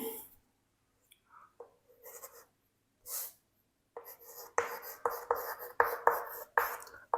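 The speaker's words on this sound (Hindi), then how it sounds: "पहला हम लिखते हैं" Chalk scratches across a classroom board as a lesson is written out. Faint, scattered strokes come first, then quicker, sharper scraping in short, rhythmic bursts toward the end.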